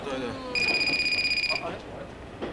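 A mobile phone ringing during a Japanese comedy show, a bright trilling ring lasting about a second amid stage murmur and chatter.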